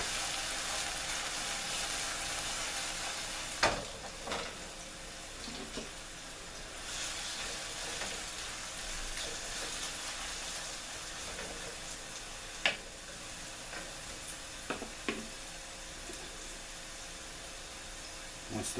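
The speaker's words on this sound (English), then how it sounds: "we're going to let this mushrooms kind of cook down the juices" Resinous polypore mushrooms fry in a pan with herbs, a faint steady sizzle and hiss with a few sharp clicks and taps of utensils scattered throughout, no talking.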